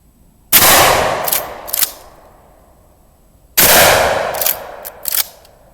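Two loud 12 gauge shotgun blasts, fired into leather, boom about three seconds apart, each followed by a ringing echo and a couple of short metallic clacks.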